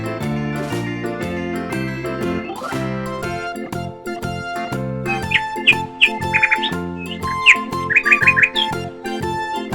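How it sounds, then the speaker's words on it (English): Brief, bright bird chirps and squawks come in quick bursts over a steady, rhythmic instrumental music track, with the calls clustering toward the second half. "Birds."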